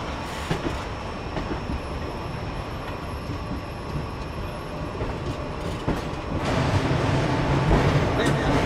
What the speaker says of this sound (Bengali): ফাইনালি আমাদের ট্রেন এসে পৌঁছালো বিশাখাপত্তনম